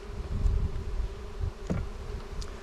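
Honey bees buzz around an open hive during a September inspection at a ranch, a close, continuous hum with no voices.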